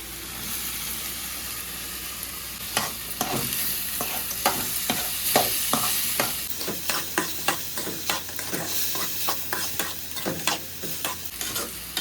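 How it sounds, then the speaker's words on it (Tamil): Small onions fry in a hot pan with a steady sizzle, broken by repeated sharp scraping clicks of a spoon stirring against the pan, growing more rhythmic in the second half; no one speaks. "சின்ன வெங்காயம் நல்லா வதங்கட்டும்."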